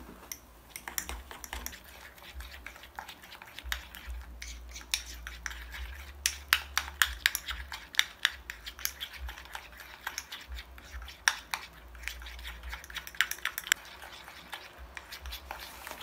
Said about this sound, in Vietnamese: Sau đó chúng ta trộn đều hỗn hợp.